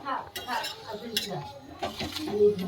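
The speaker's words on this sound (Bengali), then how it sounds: "একটু লবণ দিয়ে ফেটিয়ে নিলাম ডিমটা" An egg whisked with salt in a bowl at a home stove, quick clinking and scraping strokes of a utensil against the dish, close and continuous, with voices murmuring in the background.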